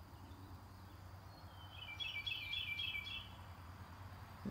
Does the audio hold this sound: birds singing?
yes